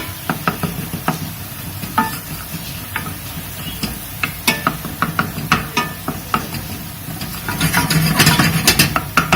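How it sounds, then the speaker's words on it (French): Onion browning in a pan with ginger and being stirred, a continuous sizzle broken by regular scraping and knocking strokes of the spoon, close and loud, with the frying swelling brighter near the end. "Que je mets à roussir avec notre ami oignon. Et je tourne."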